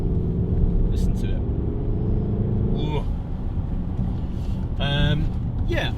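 A Mercedes GLS63 AMG V8 engine gives a deep, steady rumble from inside the car, with people talking over it.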